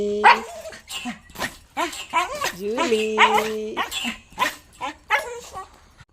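A dog whimpers and yips excitedly, with short barks mixed in, close by, while a person talks to it affectionately.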